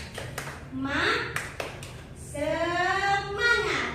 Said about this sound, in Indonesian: kita tepuk semangat dulu